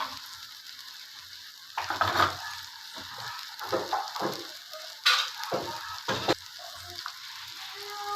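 Soybean curry with turmeric, salt and spice powders being stirred and sautéed in a pan, giving a steady soft sizzle with several louder scraping bursts as the spoon moves through it, no voices.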